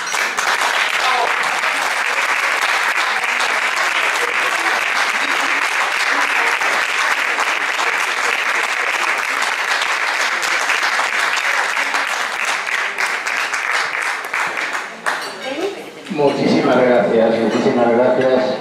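Sustained, dense applause from a large audience at an award gala, the Premios Fénix Internacional, holding steady for about fifteen seconds before thinning out as a voice begins over a quieter room.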